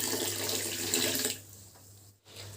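Water streams from a measuring cup into a pan over white sugar for coconut rava burfi, a steady broadband pour for about a second and a half before it drops to a thinner trickle.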